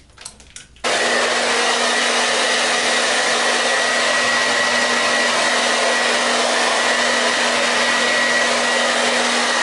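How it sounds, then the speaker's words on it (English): A hair dryer blowing hair dry switches on after a brief moment and runs at a steady, loud, constant whoosh with a faint whine for the rest of the clip, close to the listener with no talking. "And you can blow dry it to seal it in."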